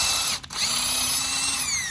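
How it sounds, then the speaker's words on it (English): A clutch drill whines steadily and loud during an engine rebuild, with a brief dip early on and then a continuous high-pitched run. "And with this being on a clutch drill, you really can't hurt it."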